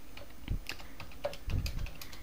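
Someone types the date into Tally ERP on a computer keyboard, with several close, irregular key clicks and no talking.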